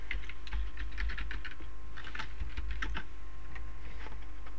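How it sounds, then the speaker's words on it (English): Quick bursts of typing on a computer keyboard, close and clear, with irregular clusters of key clicks over a low steady hum. "I just type into Google sprite sheets, go into images."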